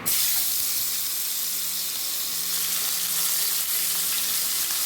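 Fish coated in turmeric and salt sizzles loudly and steadily in mustard oil, a dense close hiss of frying that holds throughout.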